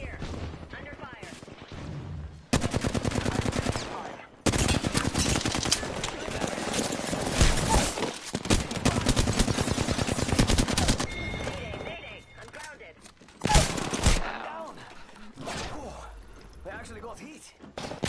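Rapid automatic gunfire in the video game Apex Legends, loud sustained bursts broken by short pauses, with in-game character voice lines and a player talking over the shooting.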